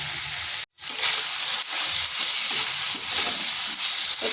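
Spice masala stir-fried in a pan for vegetarian daliya khichuri, a loud continuous sizzle with light stirring scrapes and one brief cut-out near the start, no speech.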